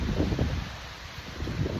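Steady wind buffeting a microphone, producing a low, rumbling roar throughout with no other sounds.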